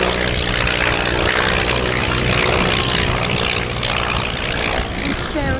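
A vintage Blackburn B2 biplane's propeller engine drones loudly and steadily on final approach at a vintage air show, a close, continuous rumbling roar with no break.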